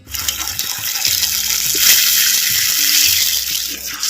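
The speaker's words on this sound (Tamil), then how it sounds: "இப்போ வந்து தேங்காய் பாலை நம்ம ஊற்றிக்கிட்டுருவோம்" Coconut milk pours into a pan of sardine curry (fried sardine fish kuzhambu), a steady watery gush and sizzle running for about four seconds, close and fairly loud, with no talking.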